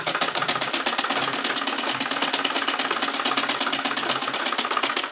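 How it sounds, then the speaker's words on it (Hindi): A sewing machine stitches a katori blouse, a steady, fast mechanical whirring and clatter that runs continuously and close up with no pauses. "अब हमें इसको पलट करके इसके ऊपर से एक और सिलाई लगाना है इस तरह।"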